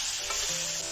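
Fish sizzles hard in a pan of spice masala, a loud, continuous frying hiss with a brief stirring scrape partway through.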